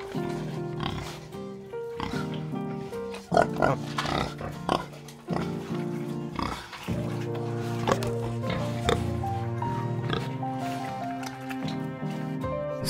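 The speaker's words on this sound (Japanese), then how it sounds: "すごく愛嬌ある豚さん" A farm pig in a rural Chinese village grunts and snorts repeatedly, close and steady, with wet squishy snuffling amid background noise and occasional thuds.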